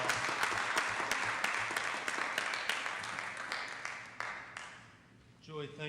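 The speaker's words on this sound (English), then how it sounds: "Let's give Skyline Capital Group and Joey a big round of applause." Audience applause at a city council meeting, sustained, fairly close clapping that thins out and fades near the end, when a voice begins speaking.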